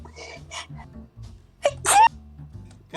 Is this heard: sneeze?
yes